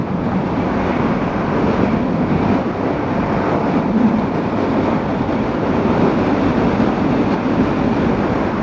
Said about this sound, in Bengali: ট্রেন বেরিয়ে গেল।